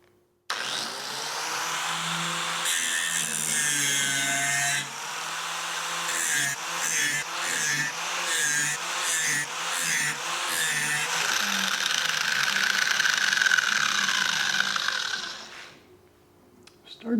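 An old, dull lawn mower blade ground on an All American Sharpener, a sustained close electric whine and grinding hiss that wavers in pitch with the blade's passes, then stops abruptly.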